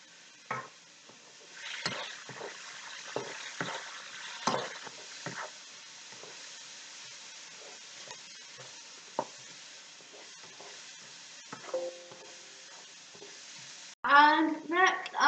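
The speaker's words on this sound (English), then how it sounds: "I'm going to add a teaspoon of a curry sauce. And I'm going to stir it." A spoon stirs curry sauce in a sizzling frying pan for a prawn curry, giving soft scraping strokes and faint sizzle, with a sharper burst of frying at the very end.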